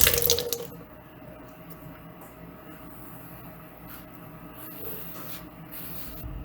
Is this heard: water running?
yes